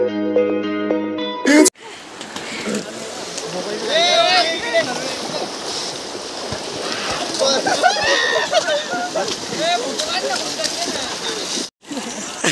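Heavy rain falls outdoors on the way to Pahine waterfall, a dense, continuous hiss with people talking over it.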